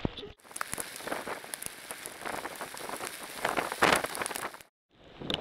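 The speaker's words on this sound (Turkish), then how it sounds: "Sabah 5'ten beri feci bir yağmur yağıyor" Heavy rain pours steadily in a dense, hissing wash with scattered louder drops pattering on a surface, then stops abruptly near the end.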